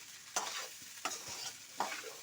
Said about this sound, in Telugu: అది గరిటతోటి కలుపుతున్నావు,